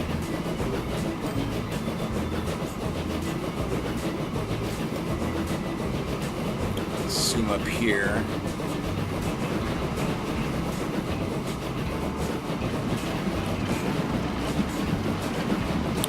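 A passenger train in a city-building game rolls along steadily with a continuous clickety-clack and engine rumble, a brief high whistle-like sweep rising midway, heard up close with no talk over it.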